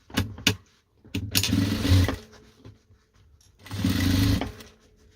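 A sewing machine runs a topstitch seam on a fabric pencil case with lining, in short close bursts of rapid stitching separated by brief pauses and small clicks of fabric handling.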